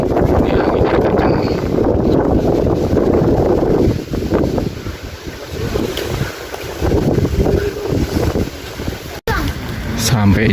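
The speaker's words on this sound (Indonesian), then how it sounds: "Ini anginnya kencang." Strong wind roars across a microphone high on Mount Sindoro during a storm, a loud continuous buffeting rush with gusts rising and falling, while someone speaks briefly through it.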